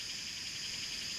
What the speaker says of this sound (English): These cicadas are really getting on my nerves.